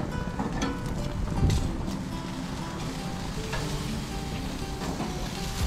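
Food sizzles steadily on a grill at lunchtime, a dense continuous crackle with a few soft bumps and no clear talk.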